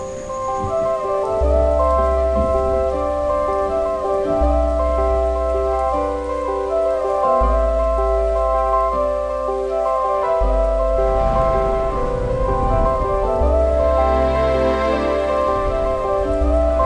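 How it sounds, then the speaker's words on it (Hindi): Steady rain falls in Shimla, a dense, even hiss of drops that continues throughout, with a low droning hum layered beneath it. "जाते जाते शिमला की बारिश भी देख ली।"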